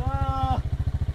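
A motorcycle engine idles close by before a fishing trip, its rapid, even pulsing putter holding steady while a brief tone fades out at the start.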